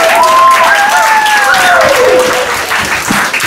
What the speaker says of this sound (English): I'd like a huge round of applause for everyone else who competed here today.